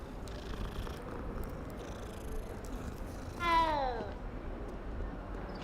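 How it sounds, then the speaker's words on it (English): A cat in the video game Hogwarts Legacy gives a single short, rising-and-falling meow partway through, heard over a steady low background hum without other clear sounds. "A cat."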